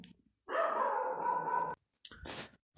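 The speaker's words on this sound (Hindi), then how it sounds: "थोड़ा कुत्ते बाहर आवाज़ कर रहे हैं" Dogs bark outdoors during an indoor lecture: one long sustained bout of barking, then a shorter burst after a brief gap, moderately loud and heard alone.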